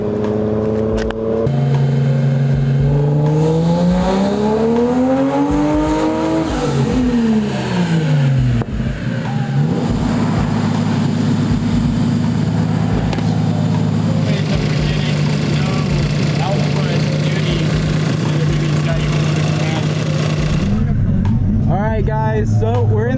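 A 1JZ-swapped Nissan 240SX S13 revs hard at a drift event, its loud engine climbing and falling in pitch through repeated sweeps before settling into a sustained high drone, with a final burst of revving at the end.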